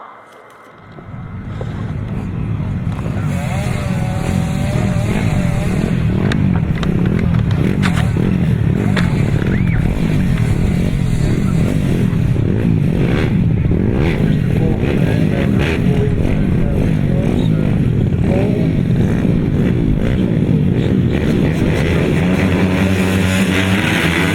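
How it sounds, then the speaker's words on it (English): Junior riders' grasstrack motorcycles at a British youth championship race, engines building from a quiet start into a loud continuous snarling roar of several bikes revving and racing together, close and sustained. "Max Perry, Cameron Taylor and Ashton Vale, all in action in this race number 2 of the juniors."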